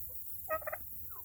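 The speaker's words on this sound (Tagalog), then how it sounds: "Come on, Mr. Turkey" A turkey gobbles once in a short, clear burst, close by and fairly loud, during the bird's first time out of its pen on a Texas farm, with a quiet open-air background.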